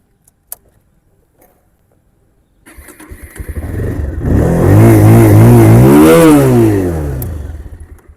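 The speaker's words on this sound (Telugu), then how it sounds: "ఒకసారి ఇంజిన్ బీట్ కూడా మీకు స్టార్ట్ చేసి చూపిస్తాను" A Bajaj Pulsar 220F motorcycle engine cranks and fires up after a small click and near-silence, rising into a loud, close revving swell before settling back toward a steady idle.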